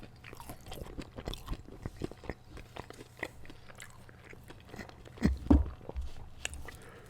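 Someone eating Algerian food, with soft bites and wet chewing recurring through the clip and one louder crunchy bite near the end, all close and quiet with no talking.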